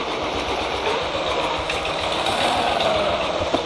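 Motorbike engine in the mobile driving game Indian Bike Driving 3D, a steady buzzing drone held at even loudness throughout, with no voices over it.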